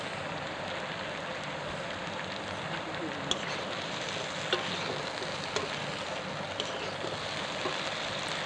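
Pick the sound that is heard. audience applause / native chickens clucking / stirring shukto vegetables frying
stirring shukto vegetables frying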